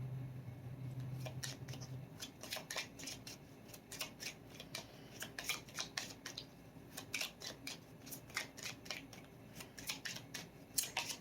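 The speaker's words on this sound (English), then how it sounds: "Let me just try shuffling it this way and see what happens." A deck of tarot cards is shuffled by hand, with rapid papery riffles and flicks in irregular bursts, close but quiet, with no talking.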